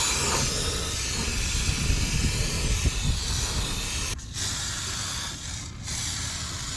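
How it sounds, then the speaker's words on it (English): Undercoating sprays under a car as a steady, loud hiss with short pauses near the end. "we should be good to start spraying the undercoating"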